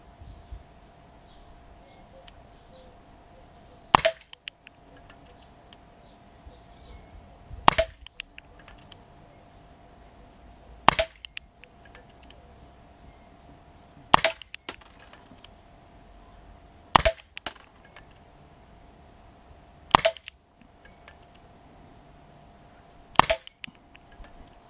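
Seven sharp, isolated shots from an Artemis CP400 air rifle firing RWS Super Field pellets, spaced several seconds apart against a faint steady background hum, with no talking.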